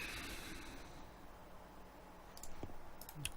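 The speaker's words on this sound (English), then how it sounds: "so we'll double click" A computer mouse double-clicks twice in quick succession, sharp and close, over a faint steady hiss of room and computer noise; the click comes during Fallout 4 weapon modding in the Creation Kit.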